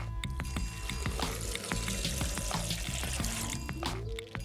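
Water is poured into a glass jar already holding a few drops of glycerine, a steady close trickle and splash lasting several seconds with no talking over it.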